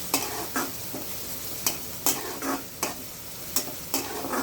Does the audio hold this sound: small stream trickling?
no